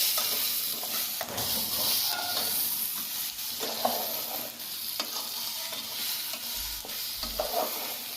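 Masala frying with salt in a pan for prawn fry, stirred hard with repeated spoon scrapes over a constant close sizzle and hiss, with no talking.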